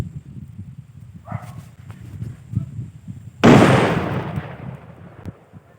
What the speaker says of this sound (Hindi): क्या गजब का फटा भाई, सारे उड़ गया भाई।